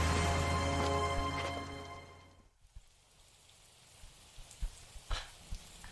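Heavy rain in the L.A. Noire video game, a dense hiss that cuts out partway, leaving scattered droplet taps and spatters on a quieter background.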